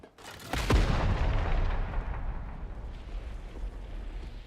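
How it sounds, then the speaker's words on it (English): A frag bomb grenade explodes in the game Darktide, a single loud, close blast with a heavy low boom that rolls into a long rumbling decay. "All right, we're on the frag bomb."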